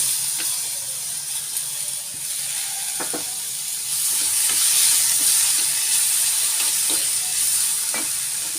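Onion and tomato fry in a pan for brinjal chutney, a steady close sizzle and hiss with occasional scraping stirs of a spoon against the pan, no talking.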